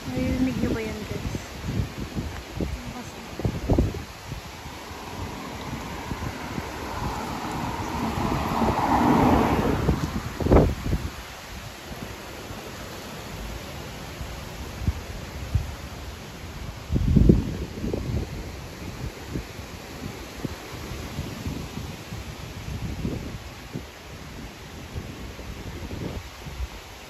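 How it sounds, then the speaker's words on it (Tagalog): Gusty, strong wind buffeting the microphone with rumbling bursts and rustling, rising and falling over a long stretch in Slovakia, with a voice speaking now and then. "Ay, malakas na yung hangin."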